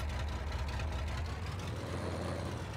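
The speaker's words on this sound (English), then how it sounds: "We'll see if the Oliver can drag this thing over here" An Oliver tractor engine in Farming Simulator 22 drones with a steady, heavy low rumble while dragging a load, loud and continuous with no talk.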